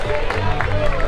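Brief burst of dense clapping and crowd noise from spectators at a beach rugby prize ceremony, close and steady, with a voice faintly over it.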